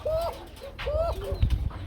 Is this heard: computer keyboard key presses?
no